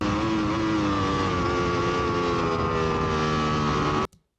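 Racing motorcycle on a track entering a corner under light front braking, its engine a loud, steady high-pitched drone with harmonic whine that holds for about four seconds, then cuts off abruptly.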